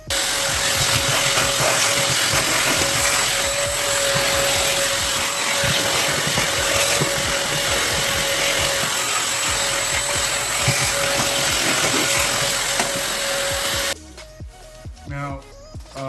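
A vacuum cleaner sucks up dirt around the fuel pump of a BMW E46 M3, a loud, steady roar with a constant whine that runs without a break, then cuts off near the end, leaving quiet shuffling.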